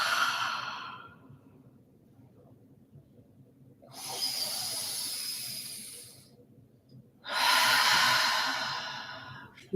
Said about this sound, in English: just begin deepening your breath with inhales through the nose, filling up the belly. Exhales through your mouth.